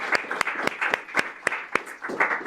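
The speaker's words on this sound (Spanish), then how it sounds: "Un aplauso para Constanza" A small audience claps for Constanza, a speaker at a talk on cultural subversion; about ten distinct, fairly evenly spaced hand claps ring out close and clear, with a few overlapping near the end.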